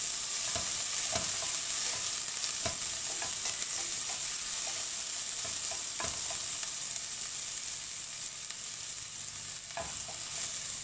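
Onions and garlic frying with greens in a pan for keerai kootu, giving a continuous crackling sizzle with scattered scraping clicks from stirring, close and steady.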